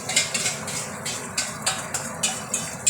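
Beaten egg batter goes into a pan of hot oil and ghee for a Kolkata-style omelette, with a steady sizzle and a run of light metallic scraping taps in a regular rhythm.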